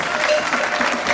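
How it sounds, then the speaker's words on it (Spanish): A crowd applauds at a morning bull run in Carcastillo, giving a brief burst of dense, steady clapping with no pauses. "Ahí están los aplausos del público entendido"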